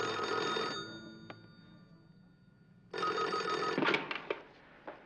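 A telephone bell rings in two long bursts separated by a pause, loud and close, followed by a few clicks as the receiver is picked up, with no one talking.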